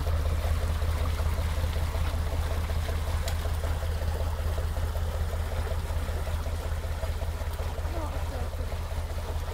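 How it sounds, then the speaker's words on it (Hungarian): A narrowboat at a canal barrage lift spits water out at its stern, giving a steady rushing, splashing churn over a constant low engine rumble, with voices faintly underneath. "Nézd, itt köpi a vizet hátul a hajót."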